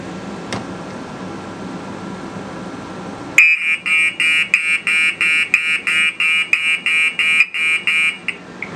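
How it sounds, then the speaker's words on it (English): After quiet background hum, a loud, shrill smoke alarm starts beeping in a rapid, steady rhythm of short repeated pulses, close by. "Now we're going to activate the smoke detector."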